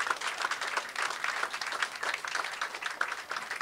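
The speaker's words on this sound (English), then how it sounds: "A round of applause for this team over here" Steady, moderately distant applause from a crowd at JAG's Restaurant in Pendleton, Indiana, cheering the restaurant team, with many hands clapping continuously throughout.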